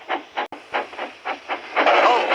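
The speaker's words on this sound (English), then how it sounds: "Here is your freight train, James, said Thomas." Steam locomotive hauling a freight train, rhythmic chuffing exhaust beats at a steady pace that quicken and build into a continuous hiss of steam near the end, close and loud with no voices.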